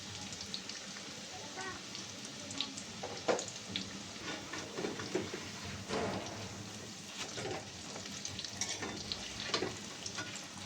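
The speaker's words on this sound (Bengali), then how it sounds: "আমার আলুর চপগুলো খুব সুন্দর করে ভাজা হয়ে গিয়েছে" Potato chops (aloo chop) frying in hot oil give a steady, soft crackling sizzle with scattered pops, fairly quiet and continuous throughout.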